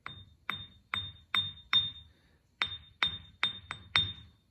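A bench grinder wheel is tapped with a hard plastic object for a ring test. About nine crisp, close taps come in an uneven rhythm, each followed by a short, bright, glassy ring, with no talking.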